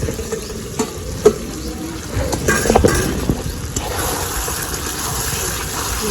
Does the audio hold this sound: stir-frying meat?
yes